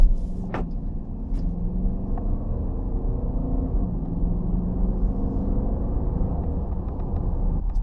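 A 2020 Dodge Durango R/T with an 8-speed automatic drives at night, its engine a steady low rumble and road noise heard from inside the cabin, continuous and moderately loud with no talking.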